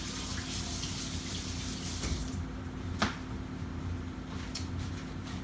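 Tap water running steadily into a sink as hands are washed, with a couple of splashy knocks, close and moderately loud, with no talk.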